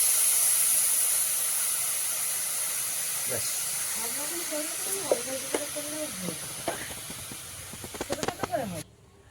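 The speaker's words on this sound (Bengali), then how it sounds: "কড়াইটা গরম হয়ে গেছে তো আলুর গুড়টা দিয়ে দিচ্ছি" Date palm jaggery goes into a hot wok, giving a steady hiss and sizzle with a few sharper crackles and spatters toward the end, while someone talks over the cooking sounds.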